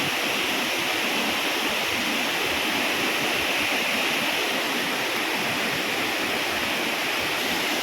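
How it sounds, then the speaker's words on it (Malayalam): Njandirukki Waterfalls at Velliyamattam pour with a steady, dense roar of rushing water that fills the whole stretch, unbroken and fairly close. "വെള്ളച്ചാട്ടാണ് ഈ ടോപ്പിൽ കാണുന്നത്"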